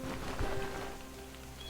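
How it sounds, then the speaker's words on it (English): Steady video-game rain falls on trees in a forest, a soft continuous hiss and patter with a low hum beneath it, heard alone for a short moment. "The rain accompanied her, each drop echoing softly as it struck the trees around her."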